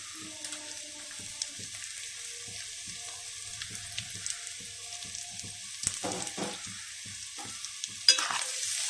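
Onion, carrot and beans frying in a pan for samosa filling, with a steady soft sizzle and intermittent scraping stir strokes, a sharper clatter near the end.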